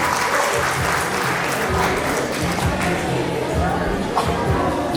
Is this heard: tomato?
no